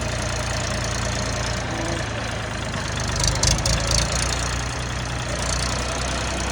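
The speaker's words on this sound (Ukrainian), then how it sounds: "Військовий собі підібрав трактор." A 24-horsepower tractor engine idling steadily close by, a constant low rumbling chug with a slight knock, rising a little in the middle.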